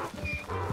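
A horse in the Red Dead role-play video game gives a brief, close burst of hoof clops and snorting, lasting under a second.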